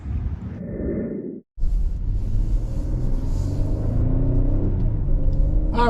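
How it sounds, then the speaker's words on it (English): A 2022 Kia Telluride EX with front-wheel drive on the road, steady low cabin rumble of engine and tyres with a brief dropout, then continuous road noise. "we are driving this 2022 Telluride EX front wheel drive"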